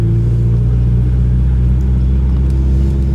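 A 1994 Acura Integra LS engine runs steadily with a damaged exhaust header, giving a loud, close, continuous low rumble and drone without pause.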